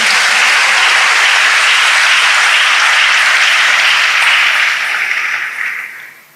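A church congregation bursts into loud, dense applause that carries steadily and then fades away at the end.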